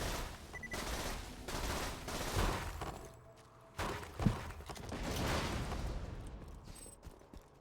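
A slow-firing gun shoots in Borderlands with repeated heavy bursts and mechanical clatter at a measured pace, loud and close among game noise.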